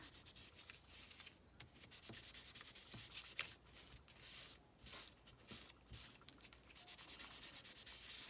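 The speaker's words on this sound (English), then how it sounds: "And start rubbing." Scrap paper rubbed by hand to age and texture a journal page, producing close, soft scratchy strokes in an uneven back-and-forth rhythm with short pauses between passes.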